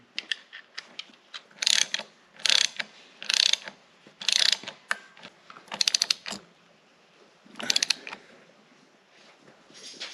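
A ratchet wrench clicks in short bursts while the bolts that lock the track adjuster are snugged up on a 1939 Caterpillar D4 final drive, about eight separate ratcheting runs with brief pauses between them, close and alone.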